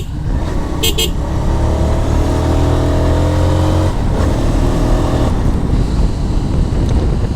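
A GPX Demon Rider motorcycle rides along a village road, its engine a steady loud drone with shifting tones, mixed with heavy wind rush against the microphone throughout.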